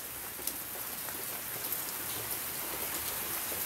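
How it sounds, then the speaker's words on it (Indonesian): Heavy rain pours steadily at night outside an abandoned, reputedly haunted hospital in Kebumen, a dense, even hiss of drops drumming on surfaces with no voices over it. "Hujannya makin deras banget nih."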